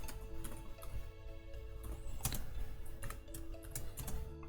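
Rapid close computer keyboard typing while entering Android code, a quiet rattling run of key clicks with a few louder strikes, steady and uneven in rhythm, with a faint tonal hum beneath.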